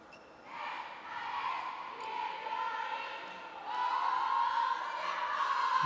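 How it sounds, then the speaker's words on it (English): An indoor arena crowd at a para badminton match during the ASEAN Para Games cheers and roars steadily, swelling louder partway through with no break. "crowd giving these guys plenty of support"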